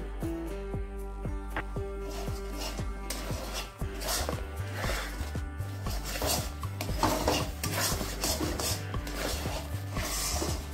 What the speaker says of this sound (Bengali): এটা নেড়ে নেড়ে শুকিয়ে নিতে হবে